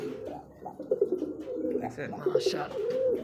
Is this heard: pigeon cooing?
yes